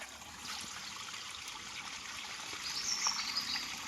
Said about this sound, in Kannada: ನೀರು ಬರುದೇ ಎಲ್ಲಿಂದ ನೀರು ಬರುದು